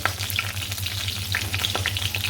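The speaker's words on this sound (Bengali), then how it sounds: "মাছ ভাজা হয়ে গেছে নামিয়ে নেই" Fish frying in hot oil: a steady, dense sizzle with crackling pops throughout, close and fairly loud, over a low, even hum.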